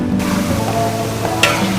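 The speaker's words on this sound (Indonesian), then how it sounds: "Menggoreng kricu tidak lama, cukup 3-4 menit saja harus diangkat" Kricu, a small squid egg snack, frying in hot cooking oil, a close, continuous crackling sizzle with occasional stirring scrapes and a sharper spatter near the end.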